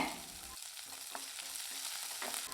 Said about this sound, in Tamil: இப்போ வெங்காயம் நல்லா வதங்கட்டுங்க